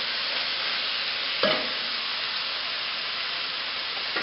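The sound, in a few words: stirring cinnamon and spices into a vegetable curry in a pot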